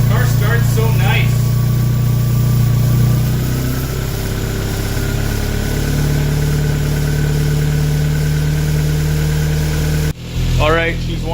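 Toyota MR2 with a BEAMS intake upgrade idles steadily while warming up after startup, a loud, close, even engine drone that dips briefly near the end.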